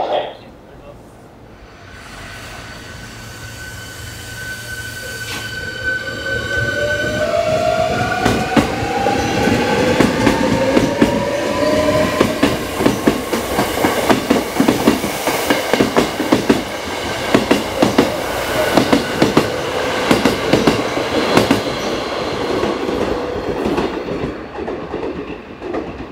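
A Kyoto Line train bound for Kawaramachi pulls into Katsura Station during morning rush, its rumble building into rhythmic clacking over the rails, with high tones sounding early and a voice now and then.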